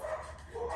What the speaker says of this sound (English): Excuse my dogs, they're barkers.